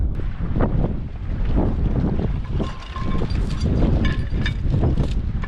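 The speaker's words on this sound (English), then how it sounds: "Windy again up here." Strong wind buffets the microphone in rough, steady gusts, with a low rumbling roar and no voices.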